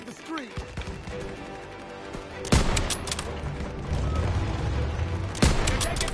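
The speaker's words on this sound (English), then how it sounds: "They're taking fire from behind!" Bursts of gunfire from the Call of Duty WWII video game, loud sharp shots punctuating a busy wartime soundscape, with a heavy blast near the start and another later, under talking voices.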